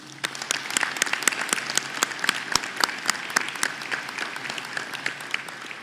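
An audience at the SUNY Canton Honors Convocation gives Paula a warm round of applause, with dense, steady clapping that holds at an even level throughout, close and full, and no voices over it.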